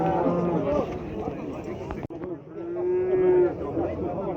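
Cattle at the Kyzylorda livestock market moo nearby in long, low calls, heard under people talking amid general market bustle.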